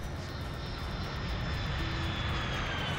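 A drone whirs in the Ghost Recon Future Soldier video game as a steady, droning engine hum that stays at an even level under broad ambient noise.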